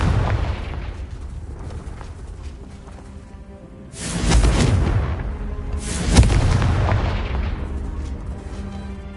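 Bombarda explosion spells cast in a Harry Potter video game, two loud booming blasts a couple of seconds apart, each with a rumbling roar that fades slowly over a continuous background din.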